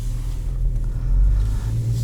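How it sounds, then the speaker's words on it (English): A 2017 Ford Focus ST engine nearing a stall raises its own idle, a steady low drone that swells slightly partway through, close and continuous with no talking. "Once it's about to stall, it's gonna rev itself up."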